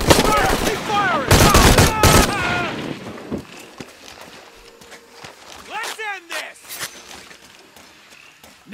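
Automatic gunfire in Shadow of the Tomb Raider, with bursts of rapid shots near the start amid shouting enemy voices, then scattered quieter shots and game effects fading back.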